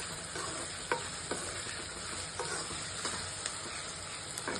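Chopped onions sizzle softly in a hot pan with salt added, a steady low frying hiss broken by occasional light scrapes and taps of a spoon stirring them.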